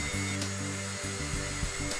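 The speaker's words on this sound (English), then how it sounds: "Using a 1/8 inch drill bit, carefully drill the holes that you have marked for the latch." Power drill with a 1/8 inch bit drilling screw holes for a latch installation, a whining motor hum in short bursts that stop and restart several times, close and fairly loud.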